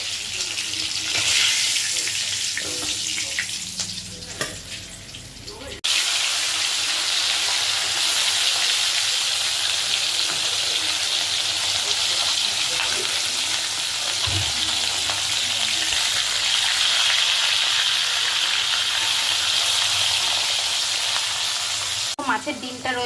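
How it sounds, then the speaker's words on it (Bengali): Fish pieces fry in a pan of hot oil, a loud, dense, steady sizzle with a brief dip and some faint clatter near the start, continuing close up to the end. "মাছ ভাজাগুলো এক এক করে নামিয়ে নেব।"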